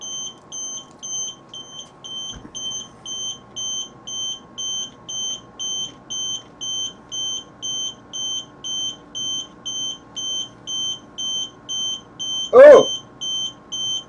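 Steady, rapid high-pitched electronic beeps from a robotics servomotor controller setup repeat throughout, with a sharp vocal exclamation near the end.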